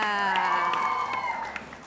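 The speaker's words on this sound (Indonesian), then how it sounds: "Sekali lagi dong tepuk tangan untuk Amanda" Applause and cheering from a crowd at a televised school quiz show in Palembang, clapping for a student representative of SMA Negeri 12, with a sustained tone over it, steady and moderately loud before easing off.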